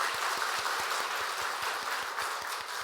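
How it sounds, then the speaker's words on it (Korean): A church congregation at a Sunday service claps for newly appointed deacons, a fairly faint, even patter with a regular rhythmic beat, and no one speaking. "우리 박수하도록 하겠습니다."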